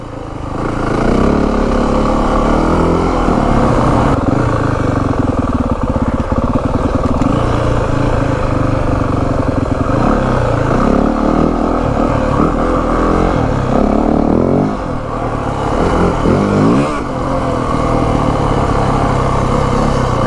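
A 2025 Yamaha WR450F dirt bike being ridden off-road, its single-cylinder engine roaring loud and close throughout, with revs rising and falling as the throttle opens and closes.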